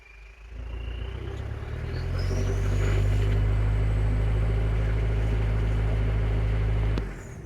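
A 1995 Mitsubishi Delica L300 engine runs after its rebuilt original fuel injectors were refitted, giving a steady, close, heavy low rumble that swells after a couple of seconds, holds, then drops away near the end, with no talking.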